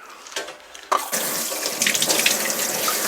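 A kitchen tap opens and then runs steadily over salted kimchi cabbage being rinsed. After a few faint clinks, the water comes in as a loud, continuous splashing gush close by.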